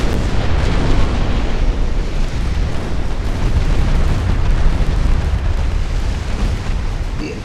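Torpedo explosions in a naval strategy video game, a dense, continuous roar of heavy booms and blasts merging into one loud, rumbling wash that holds steady to the end.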